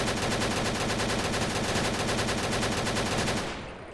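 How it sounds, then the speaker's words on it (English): Light machine gun chambered in .308 fired in a modded Fallout 4, a sustained loud burst of heavy, evenly spaced shots at a slower, beefier cadence that runs nearly four seconds before cutting off into a brief fading tail. "Whereas if you switch over to the 308, it's going to sound beefier and slower, like this."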